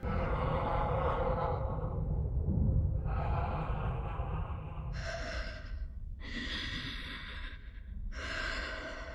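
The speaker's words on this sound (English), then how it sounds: "she's breathing like Darth Vader" Slow, heavy breathing echoes inside a helmet, like Darth Vader, in a series of drawn-out inhales and exhales that alternate hollow rasping with hissy breaths, close and unaccompanied.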